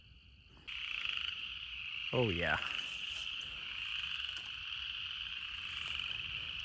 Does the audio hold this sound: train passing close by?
no